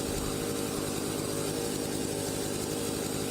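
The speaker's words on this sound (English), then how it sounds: "this is the vintage chainsaw we'll be starting with" Vintage chainsaw felling a tree in Farming Simulator 25, a steady loud buzzing engine drone running unbroken and close throughout.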